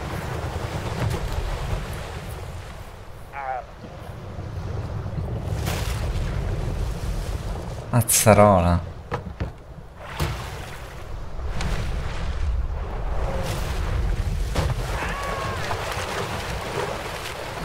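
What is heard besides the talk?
boat motor at sea in video game Dave the Diver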